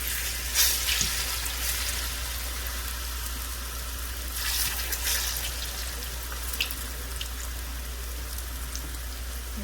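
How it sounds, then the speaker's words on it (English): Pork chops frying in a pan for smothered pork chops, a steady crackling sizzle with scattered brighter spatters and a constant low hum underneath, no voices. "Fry it up real quickly."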